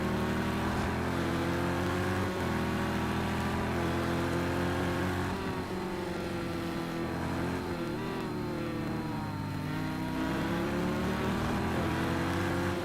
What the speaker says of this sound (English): You can just listen to this car.